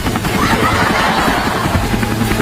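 A big helicopter roars steadily and loudly throughout, a dense continuous drone with faint voice-like sounds mixed in.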